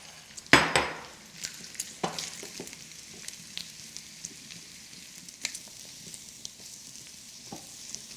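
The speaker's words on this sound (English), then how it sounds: "now that the bacon has rendered down a little bit and has got a bit of colour" Halved mushrooms land with a loud clatter in a pan of rendered, browning bacon, followed by steady close sizzling and scattered stirring clinks, with no voices.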